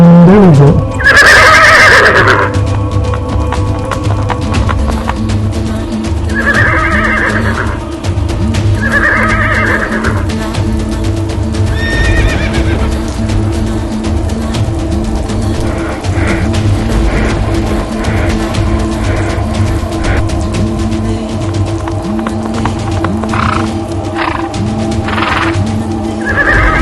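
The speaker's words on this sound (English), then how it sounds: "Extremely dramatic horseback riding." A horse whinnies several times during horseback riding on a mountain trip, loud and close, over a constant loud rushing background with faint hoof clip-clop throughout.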